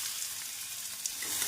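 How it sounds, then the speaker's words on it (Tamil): Chopped onion goes into hot oil in a kadai already fragrant with cardamom and bay leaf, giving a close, steady sizzle and crackle that lasts the whole short stretch with no talking. "நன்றாக பொரியவும் நறுக்கிய வெங்காயத்தை சேர்த்து விடலாம்"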